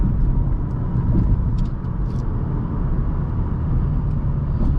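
A 2018 Mazda 3 Grand Touring engine drones as the car accelerates, a steady, loud, low rumble of engine and road noise heard from inside the cabin, with no talking.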